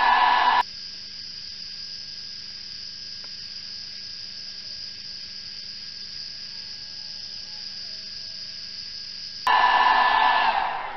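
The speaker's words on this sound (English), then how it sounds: "I'm going to use a heat gun to do this." Cheap Harbor Freight heat gun on its low setting, warming steel while a patch knife is forged, gives a loud, steady hiss that cuts in, holds and drops to a faint whine, then returns loudly near the end.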